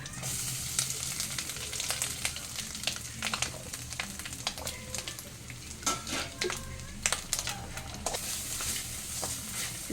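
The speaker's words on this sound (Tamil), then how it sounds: "இந்த மல்லியையும் இதுக்கு கூட சேர்த்து வறுக்கணும் பொரிஞ்சாச்சு தேங்காய் இந்த தேங்காயை சேர்த்து வறுக்கணும்" Coconut and coriander frying in a pan for mutton curry give a soft, continuous sizzle, dotted with scattered spoon scrapes and taps from stirring, fairly quiet and without speech.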